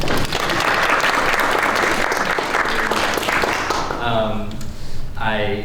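Audience applause at a public health study meeting, steady dense clapping filling the room and then tapering, with a voice starting to speak over it near the end.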